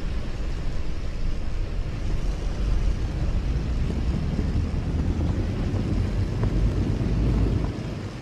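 Warplane in the game World of Warplanes takes off during an aerial dogfight, a loud steady low engine roar and wind rush building across the run, then easing off at the end.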